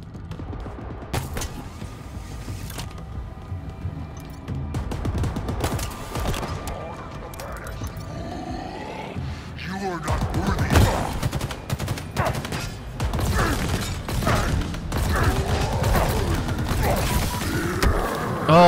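Cannon fire in the Halo Infinite campaign, with repeated heavy blasts and bursts of gunfire that grow denser and louder toward the end, mixed with mechanical creaks and game effects, while a voice talks faintly underneath.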